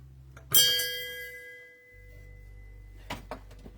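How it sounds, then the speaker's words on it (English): A bell rung to celebrate an emptied bottle gives one bright, loud strike whose tone rings on and slowly fades over a couple of seconds, followed by a few light knocks and clatter. "ringing that bell when we emptied a bottle"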